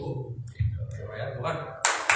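A short burst of hand claps near the end, made by a woman signalling the imam during prayer in a mosque, following a stretch of someone speaking.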